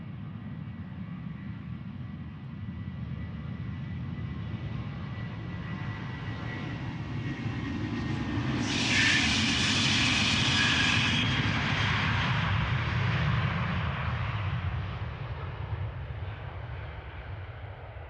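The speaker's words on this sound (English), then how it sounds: "This is one of KLM's many 737s going to London Heathrow." KLM Boeing 737 jet departing Amsterdam Schiphol, a broad engine roar swelling as it passes fairly close, with a brief high whine at its peak before slowly fading away.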